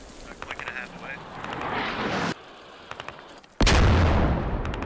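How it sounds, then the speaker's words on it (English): Artillery shells from a barrage land in the military shooter Squad, with heavy booming impacts that cut in abruptly and roll on loudly, while clipped voices murmur beforehand. "So those were artillery shells"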